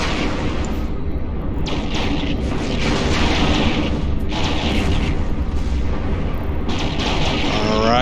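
Spaceship guns firing in EVE Online during a combat mission, with booming, artillery-like bursts that come back to back. The shots pound continuously and loudly over a dense rumbling battle bed throughout, with no talking.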